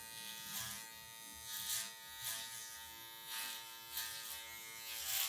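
An electric hair clipper buzzes steadily and close, trimming afro hair with the tip of the blade, with slight periodic swells as it works through the hair.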